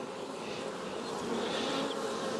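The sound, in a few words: small biting flies buzzing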